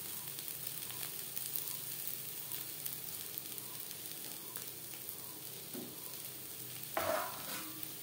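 Teasel gourd with grated coconut and green chillies sizzling in a pan while being stirred, a steady close frying hiss with a brief louder scrape and burst near the end.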